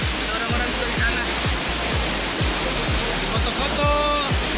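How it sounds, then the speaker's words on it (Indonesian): Gangsa waterfall at Kasui, Lampung pours in a steady, loud broadband roar, with repeated low thumps and faint tonal sounds over the rushing water and no speech. "tepat di belakang gua inilah air terjun Gangsa di Kasui"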